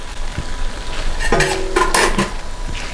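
A spoon scrapes and clinks in a pot of shrimp and lobster risotto, a few stirring strokes and metallic knocks over a faint sizzle, near and distinct with no talk.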